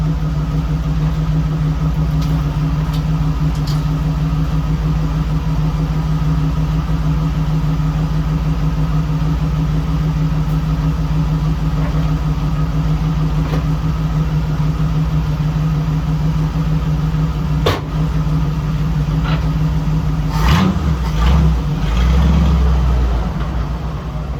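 A 1965 Chevrolet C10 pickup with a newly replaced fuel pump runs with a steady, loud low engine drone, heard close. There are a couple of brief knocks and a rougher surge near the end.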